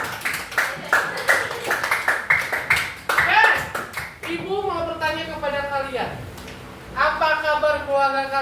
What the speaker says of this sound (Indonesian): Tepuk tangan buat Amora